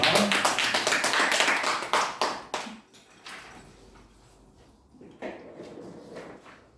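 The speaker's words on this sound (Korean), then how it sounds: "이제 박수로 환영하겠습니다." A short burst of hand clapping from a small group, loud at first, then fading into scattered claps and quiet room noise.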